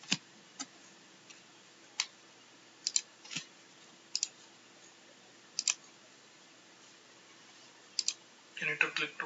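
Sparse, crisp mouse clicks, single and in quick pairs, during a CentOS 7 installation in VirtualBox, quiet and close with a faint steady hum between them and a brief burst of clicks near the end.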